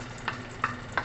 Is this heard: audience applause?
no